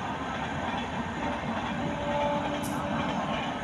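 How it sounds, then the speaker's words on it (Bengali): A Rajdhani Express passenger train runs past near Dhanbad, a steady loud roar of rolling wheels and rail noise that fills the whole stretch without a break. "দেখো ট্রেনটা যাচ্ছে এই। আমরা এখানে দাঁড়াইছিলি এখন, ট্রেনটা দেখো রাজধানী এক্সপ্রেস"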